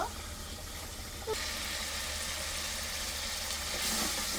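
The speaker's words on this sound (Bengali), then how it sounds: "গরম মশলা দিয়ে দিলাম, একটু ভালোভাবে কষিয়ে নেব।" Garam masala sizzles steadily in a hot pan while cooking for bhuna khichuri, with a continuous frying hiss that grows a little brighter partway through.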